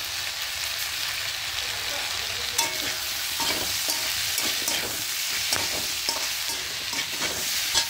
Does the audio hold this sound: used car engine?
no